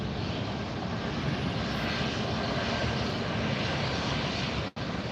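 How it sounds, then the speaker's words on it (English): A Gulfstream G650 business jet coming in to land at LAX gives a steady, loud, broadband engine roar that holds evenly throughout, with a brief dropout near the end. "we have a Gulfstream heading in right now. Gulfstream 650."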